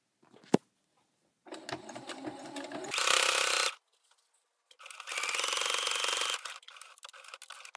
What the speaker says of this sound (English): I've already sewn it together, but I'm just going to sew it again.